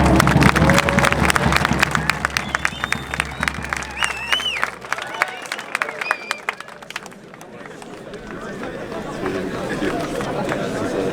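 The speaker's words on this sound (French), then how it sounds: "On peut s'applaudir." Group applause with cheering and crowd chatter at a Fortnite FNCS 2025 event in Lyon, loud at first and then thinning out into scattered voices and claps over several seconds.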